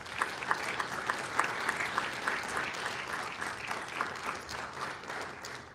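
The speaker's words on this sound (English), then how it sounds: "Let's give them a round of applause" Steady applause from a crowd at a city council meeting, honoring a cheer and dance team, sustained moderate clapping with a few sharper claps standing out over roughly six seconds.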